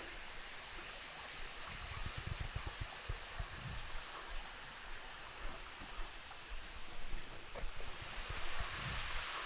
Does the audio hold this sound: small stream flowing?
yes